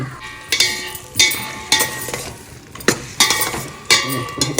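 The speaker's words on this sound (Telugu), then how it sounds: "ఈ సగం మగ్గాక ఈ వంకాయ ముక్కలు వేసుకోవాలి" Eggplant pieces go into a pot of cooking sambar and are stirred, with a metal spoon scraping and clinking against the pan in repeated strokes over a soft sizzle, close up.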